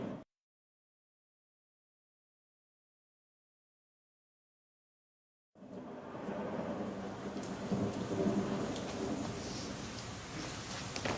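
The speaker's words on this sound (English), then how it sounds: "Rain! Rain at last!" Steady rain falls with low rumbles of thunder, starting abruptly after several seconds of silence and holding at a moderate, even level with faint birdsong.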